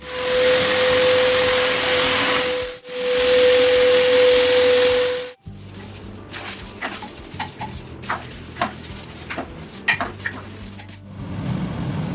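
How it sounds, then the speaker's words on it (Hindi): A household vacuum cleaner roars loud and close during Sunday home cleaning, cuts out for a moment, roars again, then shuts off, leaving quieter scattered clatter and knocks. "Vacuum cleaner."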